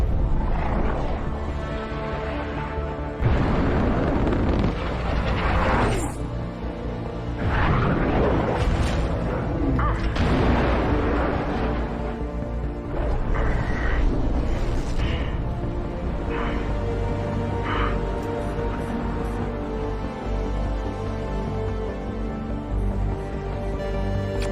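Repeated heavy booms and roaring blasts of falling bombs detonating, dense and loud throughout, with rumbling low-end bursts and crackling debris over a continuous noisy background.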